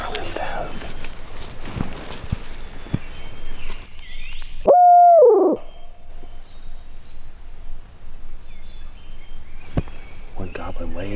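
A turkey hunter on Wisconsin public land voices a single loud owl-imitating hoot, a short descending call rising out of quiet woods, with soft whispered talk and rustling before and after.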